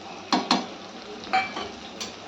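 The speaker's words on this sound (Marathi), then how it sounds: "तेलामध्ये आपल्याला छान हे पण परतून घ्यायचे" Ground spices (red chilli powder, black masala, coriander, cumin, turmeric and garam masala) frying in oil in a kadhai for shevbhaji, with a soft steady sizzle broken by a few sharp scraping stirs of a spoon.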